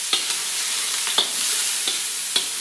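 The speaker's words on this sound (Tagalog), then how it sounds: "So ayan, igigisa lang natin yan." Chili and star anise sautéing in hot oil for spicy chicken pork pares, a steady close sizzle punctuated by several sharp spatula scrapes and taps as the pan is stirred.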